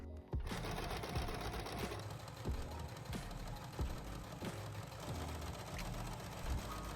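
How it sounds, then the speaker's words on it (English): A sewing machine stitching a strap onto a skirt, running in a steady rapid mechanical patter close up, with a few louder knocks and rhythmic thumps over its continuous hum. "Right now what we need to do is sew at the bottom along the strap over our skirt."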